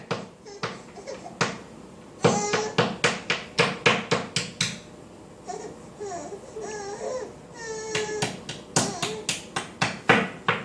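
A child hammers on the roof of a toy house, sharp repeated knocks in uneven bursts, close and loud. An adult talks and a baby cries in between.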